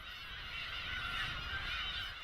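A dense breeding colony of black-tailed gulls on Hongdo, an uninhabited island off Korea's south coast, calling continuously, many overlapping nasal cries blending into a steady, loud wall of sound with no talking.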